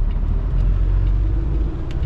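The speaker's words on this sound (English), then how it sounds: "I didn't see that truck coming" A truck in a truck-driving video game rolling past, a steady low engine rumble and road noise that stays loud throughout the short moment.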